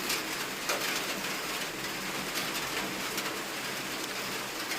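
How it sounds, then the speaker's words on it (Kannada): Steady rainfall makes a low, even hiss with soft pattering drops, faint and continuous, and no one speaks. "ಮಳೆಯೂ ಬರ್ತಾ ಇದೆ."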